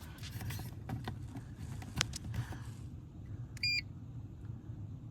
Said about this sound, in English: So as soon as you plug this in, you're gonna hear a beep.